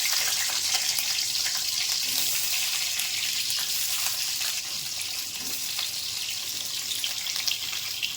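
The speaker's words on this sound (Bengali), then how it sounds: "এখন একটা একটা করে সবজিগুলো সব ভেজে নেব। প্রথমে আলু ভেজে নেব।" Potatoes fry in oil in a pan for a mixed vegetable dish, giving a continuous bright sizzle and crackle that stays close and steady, with no speech.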